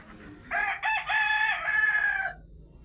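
A miniature rooster crows once in a home garden, close and loud, a drawn-out call with a few breaks, set against quiet background.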